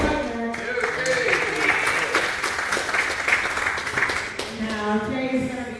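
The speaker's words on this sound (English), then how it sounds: "Let's have a nice round of applause for Jay Wagner." An audience claps for a daredevil motorcycle wall rider, a steady round of applause at moderate level with a voice talking over it at the start and end.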